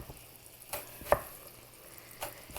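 A knife slicing a red onion for a creamy Cajun pasta, a few sharp cuts against a board spaced irregularly, moderately close over a faint kitchen background.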